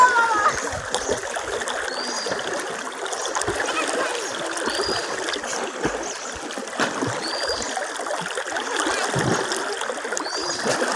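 River water splashing and trickling steadily throughout a boat crossing, a continuous wet wash close by with faint voices in the background.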